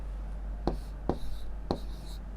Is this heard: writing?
yes